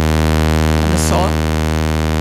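A modular synthesizer holds a steady sawtooth tone, a bright, buzzy stack of overtones droning evenly throughout, with a brief voice murmuring over it midway.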